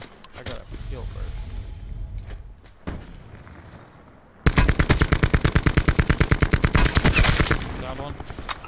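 Video game gunfire: scattered shots under talking voices, then a loud, rapid automatic burst of evenly spaced shots rattling for several seconds.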